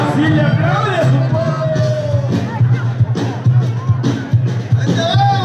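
A rodeo crowd at a ranch event whoops and shouts in a continuous lively roar, with a voice calling out over the noise throughout.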